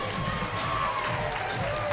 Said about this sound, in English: come on, give a round of applause too